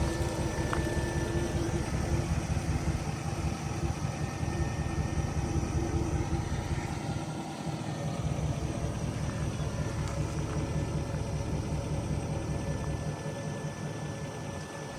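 A tuned 2016 Nissan Titan XD with a Cummins diesel engine, lifted on 35-inch tires, backing up, with a steady, loud low diesel drone that holds throughout.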